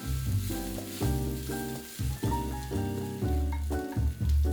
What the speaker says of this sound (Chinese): 然后呢，再把炸好的猪肉一起下锅，